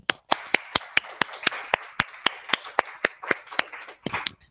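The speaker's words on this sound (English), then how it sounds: "Let's give you an applause here." Sharp, evenly spaced claps ring out about three times a second over a faint wash of background clatter, sounding like a small group applauding after a scientific talk.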